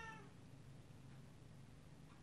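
A pet cat gives a single faint, short meow at the very end, heard in a quiet indoor room.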